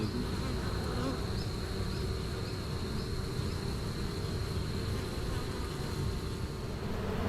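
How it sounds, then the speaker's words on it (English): Dense, steady buzzing of many honeybees close by at a hive entrance, a continuous swarming drone without pause. "we are just gonna watch the bees march in"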